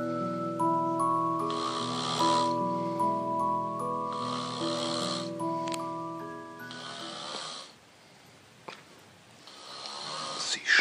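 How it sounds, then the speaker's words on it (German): A woman snoring in her sleep, several long rasping breaths in a steady rhythm, close and fairly loud, with a quieter pause near the end. "ich bin eine Frau und ich schnarche"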